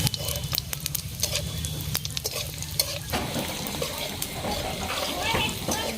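Bay leaf, dried chillies, whole cumin and black cumin hit hot oil with a sudden crackling sizzle that sharpens partway through, then settles into steady frying with a stirring scrape.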